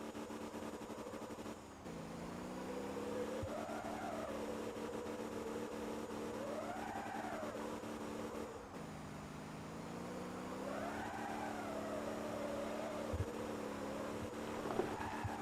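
A truck engine drones steadily while driving at about 75 mph in fourth gear in the MotorTown game, holding a constant tone that swells and dips in pitch as revs shift, with a brief drop near two seconds and again near nine.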